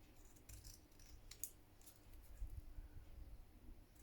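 Scissors snip a few times while trimming excess paper from a postcard, short crisp cuts that are fairly faint against a quiet room background.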